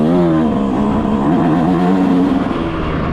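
A stock 2026 Yamaha YZ125 two-stroke dirt bike being ridden, its engine loud and close, revving in a continuous buzzing drone that wavers in pitch as the throttle shifts.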